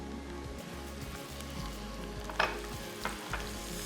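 Garlic paste frying with softened onions in a pan, a steady close sizzle with a few sharp spatula clicks and scrapes, no talking.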